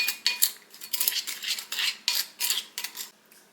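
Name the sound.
mixing chopped walnuts with a spoon in a bowl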